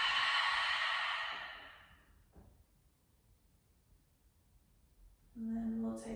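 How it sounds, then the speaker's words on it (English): A long, deep audible exhale during yoga breathing opens loud and breathy, then trails off into quiet stillness before a voice begins speaking near the end. "We'll just take one big deep inhalation, one big audible exhale out"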